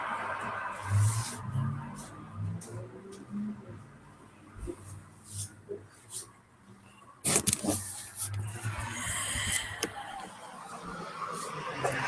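Live street traffic heard through a window, cars passing at a moderate distance with a louder vehicle rushing by partway through, some faint voices in the background.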